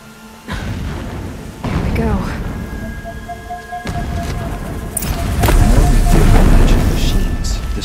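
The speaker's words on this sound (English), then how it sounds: "The blasting should cover any noise you make." Blasting explosions rumble through a Horizon Zero Dawn game scene, deep booms rolling in repeatedly over a steady low background, building louder toward the end, with some faint tonal machine sounds.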